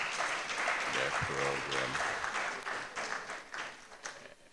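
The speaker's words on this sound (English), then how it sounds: "Let's give our chair a round of applause for summarizing" An audience at a memorial lecture event applauds the chair with a steady wash of clapping, while a voice speaks briefly over the start.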